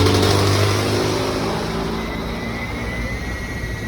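A newly rewound 1.5 kW, 2 HP, 3600 rpm electric motor with new bearings, wired in Y connection, runs with a steady close hum and tonal whine that eases slightly over time.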